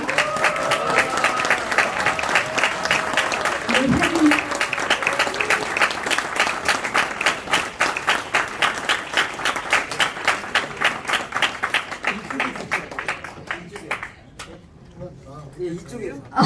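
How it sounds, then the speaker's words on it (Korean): An audience at a Korean church fundraising evening bursts into loud, sustained applause with dense clapping that thins out toward the end, while a speaker's voice comes through briefly near the start. "네, 큰 박수 부탁드립니다."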